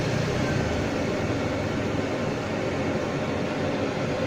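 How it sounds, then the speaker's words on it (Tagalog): A low-powered blower fan on a smokeless wood stove runs with a steady, even whooshing hum throughout, constant and close, with no voices. "So mahina lang pong blower ang kailangan dyan."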